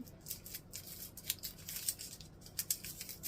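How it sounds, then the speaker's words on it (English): A small knife slices the top off a vegetable in a rapid run of crisp, close, quiet cutting clicks, heard alone. "you're going to take your little knife here, and you're going to cut off the top"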